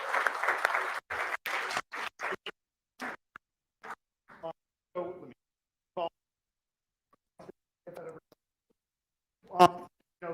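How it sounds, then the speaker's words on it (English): Sparse, quiet clapping from an audience at a live event: a short cluster of claps at first, then scattered single claps that thin out and fade. "Give a round of applause."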